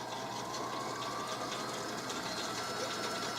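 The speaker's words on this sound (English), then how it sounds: "You're going to sew these together" Sewing machine stitching ribbons together for a key fob wristlet, a steady continuous whirring hum of the motor and needle running without pause, close and moderately loud.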